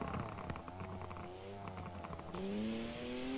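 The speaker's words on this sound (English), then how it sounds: "Damn, this car does sound very nice" A sports car engine revving in the Forza racing game, with smooth harmonic tones rising and falling and then climbing sharply to a loud, steady high rev near the end.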